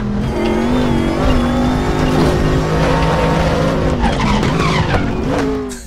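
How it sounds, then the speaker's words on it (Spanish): A Chevrolet Dekon Monza race car in RaceRoom at Zolder skids through a corner and brakes hard, with loud tire squeal and a straining engine whose pitch rises and falls, close and alone without talk. "el subiraje en la curva y después la blocada, la frenada"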